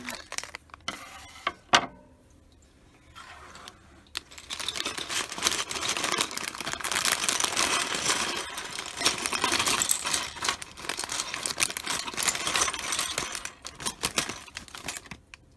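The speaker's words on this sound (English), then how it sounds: "I'll cut open bag number 2." A plastic bag of Lego pieces is cut open and emptied onto a work table: a few sparse clicks and rustles, then a long dense clatter and rattle of small plastic bricks pouring and tumbling, close and fairly loud, with no talk.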